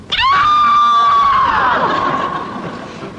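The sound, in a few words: voice imitating a scream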